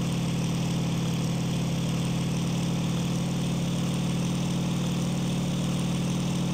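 A fighter plane's overheating engine in the flight sim IL-2 Sturmovik 1946 drones as a loud, steady low hum, continuous and unvarying, with no talk over it.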